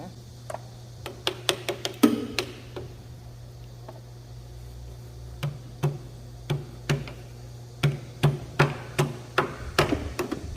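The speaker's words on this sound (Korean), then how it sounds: "망치 뒷부분을 이용해서 타격을 해주시면 망치의 뒷부분으로 손잡이 쪽으로 이렇게" A hammer's back end taps an engine part toward the handle while a connecting rod is seated during boring work on a walking tractor engine, giving sharp metallic knocks in quick clusters over a steady low hum.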